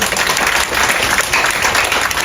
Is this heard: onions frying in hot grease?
no